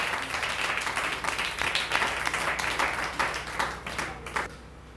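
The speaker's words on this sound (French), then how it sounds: "Frappez-nous, applaudissez Saint-Esprit dans la vie matin." A church congregation claps together during a worship service, sustained and rhythmic, with a layer of voices and low background hum, fading at the end.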